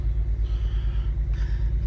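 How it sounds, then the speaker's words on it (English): Low, loud road rumble fills the cabin of a moving car, a steady pulsing drone with a faint rhythmic throb and a brief higher rustle near the end, no voices. "God, it's noisy in this car."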